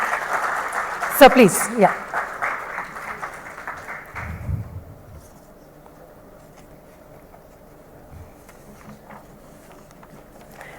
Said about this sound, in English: we can surely have a round of applause here for a fantastic presentation